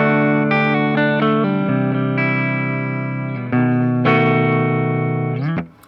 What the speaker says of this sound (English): So these neck pickup tones, nice and juicy without being too muddy.